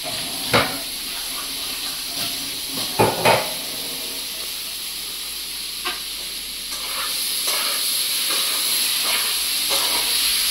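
A pot curry cooking on a home stove hisses and sizzles steadily under a constant bright steam noise, with a few short knocks and stirring clatters scattered through, no voices.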